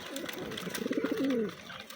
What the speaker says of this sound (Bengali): আমার সবগুলো কবুতরই খাবার খেতে নামছে